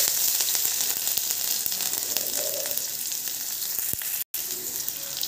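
Crushed garlic sizzles and fries steadily in hot oil, a continuous close crackle with a brief dropout near the end, no voices over it.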